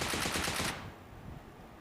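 A rapid burst of automatic gunfire in PUBG on the Erangel 2.0 map rattles for under a second, then cuts off into a faint, noisy tail.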